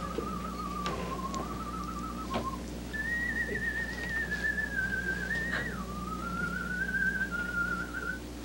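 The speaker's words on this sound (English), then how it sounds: "he whistles through his nose" A thin, wavering melody whistled through the nose, sliding between notes with short pauses, carried on a faint background hum.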